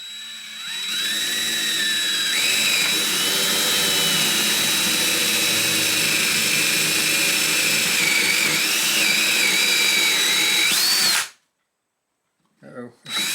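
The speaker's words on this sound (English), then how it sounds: "so we drill that pilot hole and go underneath" A power drill boring a pilot hole through a floor whines loudly and steadily for about ten seconds, its pitch wavering slightly under load, then cuts off abruptly into silence.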